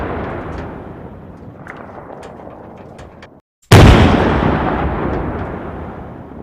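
A WW2 artillery gun in Arma 3 fires one loud, booming shot that rolls into a long, slowly fading rumble. A steady low rumble comes before it, then a brief dead silence just ahead of the blast.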